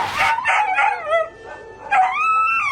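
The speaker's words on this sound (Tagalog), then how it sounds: "Ang alagang aso kasi, pinagpapalo ng isang lalaki dahil sa galit." A dog in Punta Santa Ana, Manila, howls and yelps after being beaten, giving a series of loud, close, high-pitched whining cries that rise and fall with brief breaks between them and no voices.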